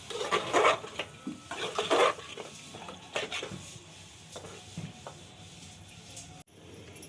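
Mutton being stirred through masala in a pan for a dhaba-style curry, giving soft scraping and clinking strokes in bursts that thin out toward a quiet end, with no talk.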